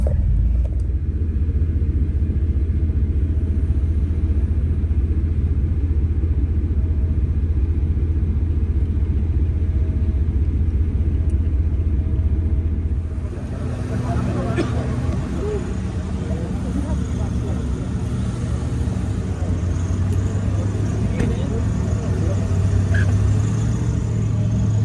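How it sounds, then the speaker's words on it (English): A pickup truck stuck in deep snow in a snowed-in setting, its engine holding a low, steady rumble and then rising in pitch and roughness as it revs partway through, with people talking nearby. "I think I might have just got Ben's truck stuck"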